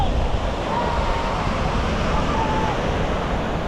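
Surf rolls in at Vypin beach in Kochi, where the sea runs alongside a road, heard as a continuous loud wash of breaking waves mixed with wind rumble on the microphone.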